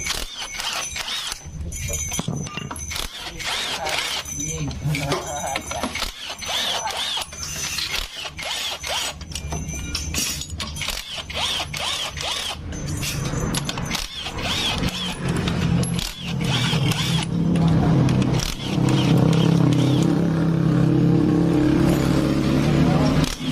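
A power tool runs loudly on the CVT housing of a motorcycle whose rear wheel makes a rough noise, giving a sustained mechanical whirring with repeated rattling bursts throughout.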